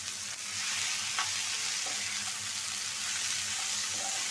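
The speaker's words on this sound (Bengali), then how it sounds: "করলাটা সাদা ভাজি করবো" Bitter gourd fries in a pan with a dense, constant sizzle, and a faint stirring scrape or two sits close beneath it.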